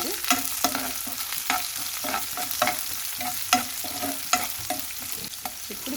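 Chopped onions sizzle in hot oil in a pan on a stove while a spatula repeatedly scrapes and tosses them, making a close, continuous frying hiss broken by rhythmic stirring clicks, with no voice.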